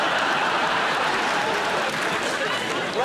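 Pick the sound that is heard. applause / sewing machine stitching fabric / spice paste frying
applause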